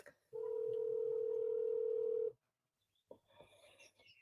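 A steady telephone dial tone hums alone for about two seconds while a call is placed, then cuts off, followed by faint clicks and quiet background sounds.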